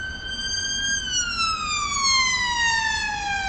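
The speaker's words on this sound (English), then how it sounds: "And off goes an ambulance passing by." An ambulance siren wails steadily, its pitch dropping as it passes by, over a low traffic rumble.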